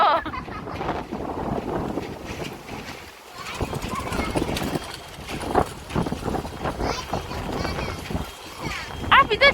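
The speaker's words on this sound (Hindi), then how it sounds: "विंडी विंडी है आज।" Gusty wind buffets the microphone during a bicycle ride on a windy day, a continuous rumbling roar that surges and dips throughout while people talk over it.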